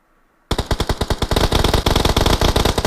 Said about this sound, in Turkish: Sweep ve Case de onlara doğru bir atış attı